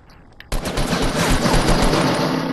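Shotgun fire in the Fortnite video game erupts suddenly after a quiet moment, then continues as loud, rapid, overlapping blasts with no talking.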